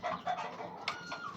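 A hen clucks at a game farm in a few short, fairly faint calls, with a brief sharper squawk midway and light outdoor background around it.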